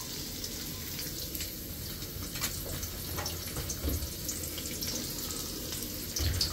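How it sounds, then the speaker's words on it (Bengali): Onions frying in hot oil to make birista for biryani, a steady, fairly quiet sizzle with soft crackles and occasional stirring scrapes, running without talk. "এই পেঁয়াজগুলা বেরেস্তা করার জন্য দিয়ে দিই।"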